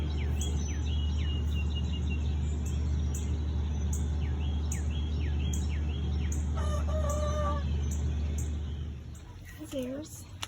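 A rooster crows from a backyard chicken coop over a steady low hum, with clucking hens and occasional bird chirps; a short crow-like call stands out near the end.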